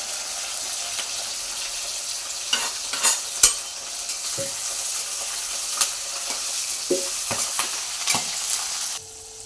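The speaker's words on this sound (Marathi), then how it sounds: "लसूणचे दोन गड्डे घेतलेले आहेत मिरच्या दहा ते पंधरा घेतलेल्या आहेत बारीक गॅसवरतीच भाजून घ्यायचं आहे" Garlic bulbs and green chillies roast directly over a gas flame, giving a steady hiss and sizzle with intermittent clicks and taps as they are turned, close by and without speech.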